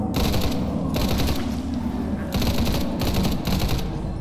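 A machine gun in a Minecraft horror game fires long continuous bursts of rapid shots, loud and close, with brief gaps between bursts.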